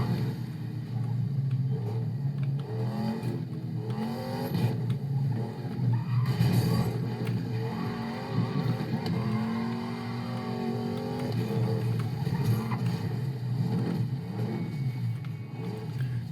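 Car engine in the Need for Speed video game, a steady rumbling drone with rising and falling revs and occasional tire squeal, continuous and fairly loud throughout.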